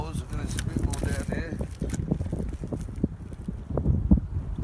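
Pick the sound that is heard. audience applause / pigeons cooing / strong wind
strong wind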